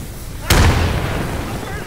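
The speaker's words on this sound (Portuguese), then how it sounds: "Granada." A grenade detonates in the game Insurgency, one sharp loud blast followed by a rumbling decay that fades over a second or so, with game background noise continuing around it.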